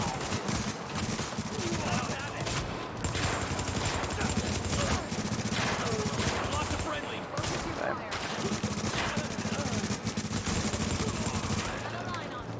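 Sustained gunfire in the video game Tom Clancy's The Division, steady bursts running through the whole stretch with dense layered shots, loud and continuous under game noise, with a voice talking over it.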